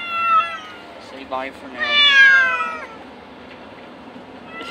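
Two cats meow repeatedly in a car on the way to the vet for their shots, with loud, drawn-out harmonic cries rising and falling over a soft engine hum, while a person speaks briefly between them.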